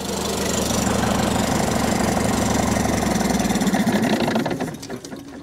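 A Cummins Big-Cam 3 diesel in a 1971 Dodge L1000 cabover truck runs loud and close with a heavy, rapid knocking rumble, then winds down and stops near the end as the fuel is cut.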